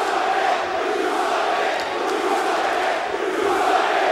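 Hostile wrestling crowd at ECW One Night Stand 2005 chanting at Kurt Angle during his promo, a dense, steady roar of massed voices sustained loudly throughout.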